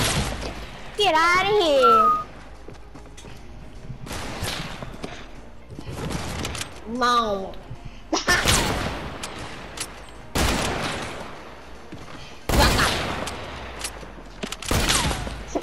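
Rapid video-game gunfire in repeated loud bursts and volleys, with several young players talking and shouting over and between the shots.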